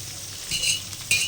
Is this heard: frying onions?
yes